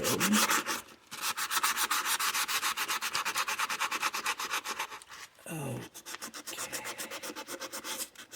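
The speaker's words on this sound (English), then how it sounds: "Sand this part off." A part of an EAA Windicator .357 Magnum revolver is hand-sanded, making fast, rhythmic rasping back-and-forth strokes, close and steady with a brief pause partway through.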